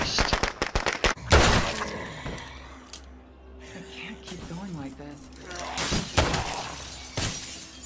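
Gunshots and shattering crashes against a fence in State of Decay open with a quick cluster of sharp cracks, followed by a loud burst and scattered impacts, while someone talks over the action.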